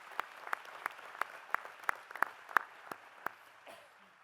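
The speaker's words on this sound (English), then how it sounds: "And yes, we can clap for that." A college commencement audience applauding, heard as a thin scattering of individual claps at a steady rhythm, fairly faint and distant, tapering off at the end.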